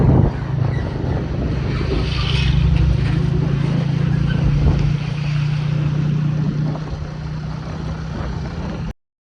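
Motorcycle ridden along a rough, very bad road on a long journey from Multan to Kashmir: a steady, loud engine drone with heavy wind buffeting across the microphone, continuous for about nine seconds before cutting off abruptly.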